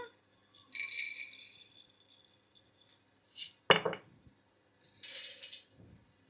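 Roasted gram (putnalu) tipped into a steel mixer jar, giving short dry rattling clatters in a few separate bursts with quiet gaps between them, close by and with no voices.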